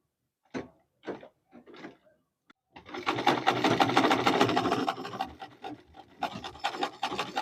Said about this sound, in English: As you can see, I'm about to start sewing.